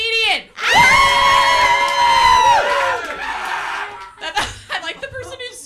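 A comedy club crowd cheers and whoops loudly for a long stretch, one audience member's scream standing out, then settles into scattered chuckles and chatter.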